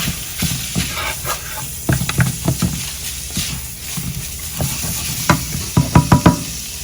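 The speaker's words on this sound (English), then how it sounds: "Give that a little stir." Spicy chili in a pot being stirred with a utensil, giving irregular close scrapes and knocks over a constant background hiss, with no voices.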